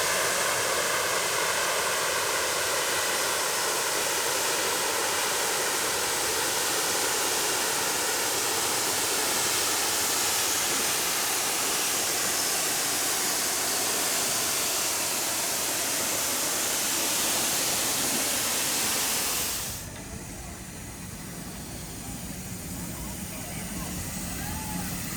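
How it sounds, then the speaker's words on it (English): A classic steam locomotive on the Worth Valley Railway pulls out of Keighley station with a continuous loud rushing hiss of steam that cuts off abruptly near the end, leaving quieter ambience. "spend a moment listening to this classic steam engine sound of years gone by"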